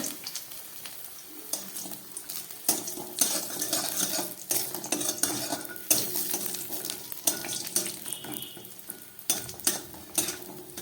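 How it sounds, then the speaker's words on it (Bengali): Lentil dumplings (bori) fry in hot oil and crackle steadily while being stirred, with repeated sharp scrapes and clinks of a utensil against the pan. The sound is close and fairly quiet. "এই তেলের মধ্যে বড়িগুলোকে ভেজে নিচ্ছি"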